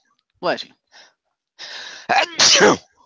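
A person sneezes three times in a row, the sneezes loud and close, with brief gaps and a short breath between them; other voices speak around the sneezes.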